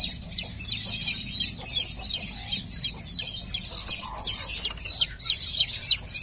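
A newly hatched chick peeps loudly and insistently while its mother hen is out feeding, a rapid string of high piercing chirps close by, with low hen clucks underneath.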